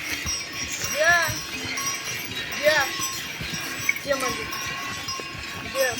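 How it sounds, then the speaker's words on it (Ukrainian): Trained horses, a stallion and a mare, walking at a steady pace, their hooves clip-clopping in a repeated rhythm close by, while people talk over the steps. "Розумно дуже коні йдуть."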